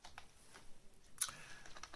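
Soft keystrokes on a computer keyboard set to QWERTY as a Linux update command is typed, a few quiet scattered taps with one sharper click near the middle, no voices.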